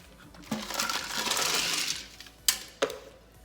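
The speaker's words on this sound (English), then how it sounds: "Now we're going to add the ice." Clattering tumble of ice cubes dropped into a metal pan, followed by two sharp separate clinks near the end.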